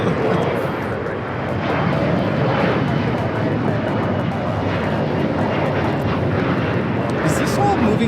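Korean Air jet airliner flying downwind near LAX, a steady broad engine rumble heard at a distance, continuous throughout, with people talking over it.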